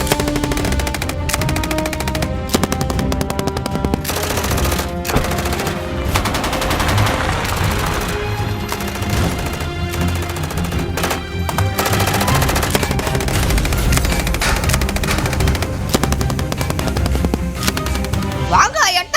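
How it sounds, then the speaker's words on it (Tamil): Rapid bursts of automatic gunfire and shots crackle loudly and almost without pause in a GTA 5 shootout, dense and continuous, with a voice speaking over the firing at times. "எல்லாரையும் சுட்டு தள்ளிட்டு வரேன்"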